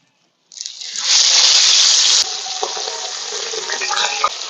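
Bata fish dropped into hot mustard oil bursts into a loud, close sizzle that settles into steady spattering frying, with a few clinks of a utensil.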